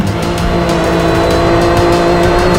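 UTV race cars launch from a starting line, a loud, continuous close engine roar with steady tonal drone and faint tire noise, no voices.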